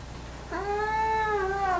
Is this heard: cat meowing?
yes